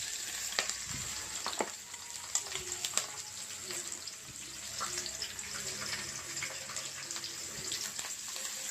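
Chopped onions and tomatoes sizzling and frying in a pan for chikudakai curry, a steady bright hiss with scattered crackles and occasional stirring clinks close by.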